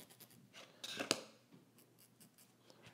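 A marker or chalk scratches across fabric in short strokes to mark a 5/8-inch seam allowance for sewing a zipper, with one sharper rub in the middle and soft, quiet scratches around it.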